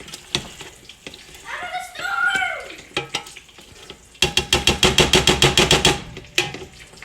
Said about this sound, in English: Take a potato masher. Yeah, shocking, I know. And you smush up the garlic and the onions all together.